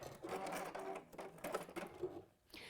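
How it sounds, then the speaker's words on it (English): A sewing machine fitted with a walking foot stitches in quick rhythmic bursts of mechanical whirring and ticking, close and quiet, pausing briefly before starting again. "with this walking foot that comes with the machine, it's fab because you really get to see where you're stitching"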